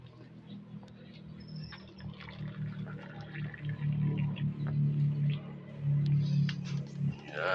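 Water is poured into a container beside a heater, a soft liquid fill running under a steady low hum, with people talking nearby.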